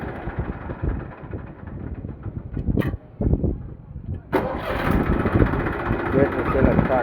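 A Massey tractor engine with battery self-start runs steadily nearby, a rough continuous rumble with a louder surge partway through, while someone talks over it.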